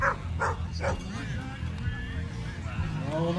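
Dogs at a dog display team performance at an outdoor festival, giving a few sharp barks and yips early on over crowd noise and a voice talking.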